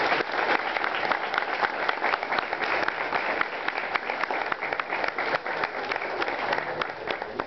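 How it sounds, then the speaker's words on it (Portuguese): An audience at a Brazilian law class plaque ceremony breaks into sustained applause, dense and steady from start to finish, with no voice rising above it. "eu queria uma salva de palmas"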